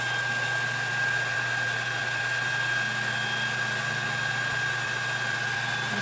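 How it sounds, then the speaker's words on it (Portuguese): A weak handheld hair dryer blows steadily right up close while heating resin on a 2D ballerina craft piece, a constant whirring hum with a high whine, alone. "Vou colocar o meu aqui bem de pertinho, que o meu secador é fraco."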